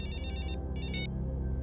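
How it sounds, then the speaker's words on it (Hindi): A telephone rings in two quick trilling bursts over a loud low background hum, with no speech during the ringing. "उन्हें अपराधियों का फोन है सर।"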